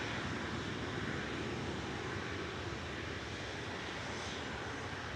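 Jet2 Airbus A330-200 airliner taxiing at Manchester Airport, a steady broadband engine roar that holds level throughout with some wind noise, no voices.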